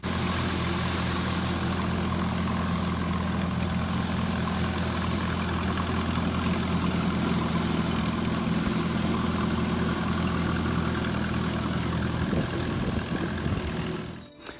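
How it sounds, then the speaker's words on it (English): A vintage tractor engine runs steadily at a show grounds, a low rumbling idle that holds a constant throb for the whole stretch before cutting off abruptly at the end, fairly close and alone without talk. "And then this vintage tractor. It's being used to wet the paths around Hesstons."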